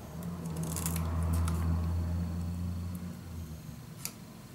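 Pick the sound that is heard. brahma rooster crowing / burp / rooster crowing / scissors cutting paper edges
scissors cutting paper edges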